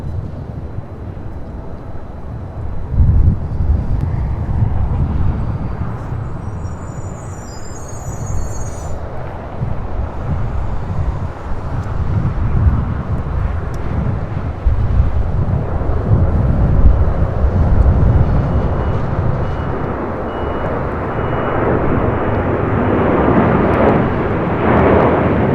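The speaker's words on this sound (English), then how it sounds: "This is United Airlines 1158 taking off to Honolulu on a 777-200ER." United Airlines Boeing 777-200ER bound for Honolulu rolling down the runway at LAX on takeoff, a loud continuous jet engine roar with deep rumble that swells and holds steady throughout.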